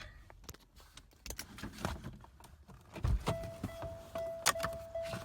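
People climbing out of a car beside an old, rotting 1960s MG, with rustling, clicks and door handling sounds close by, a steady electric-window-like whine in the second half, and no talk.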